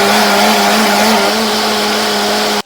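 Electric grinder blending onions for fish masala, a loud steady motor whine with a constant pitched hum running unbroken for about two and a half seconds before abruptly stopping.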